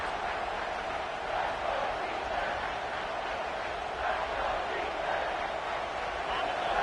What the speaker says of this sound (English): The crowd getting behind this defense as they try to get a stop in the red zone.